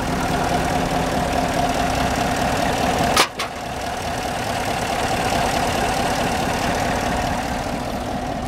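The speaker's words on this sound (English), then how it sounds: "Let you listen to the engine." A car engine idles with a steady, even hum that stays constant throughout, broken only by a single brief click partway through.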